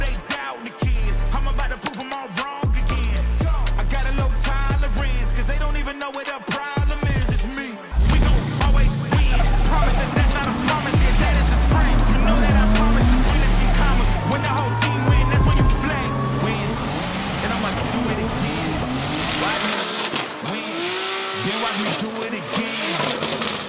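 An electric BMW car driven hard on a test track during a Russian racing series stage in Moscow, with loud whining drive tones, rising and falling with speed, alongside tire and mechanical noise throughout.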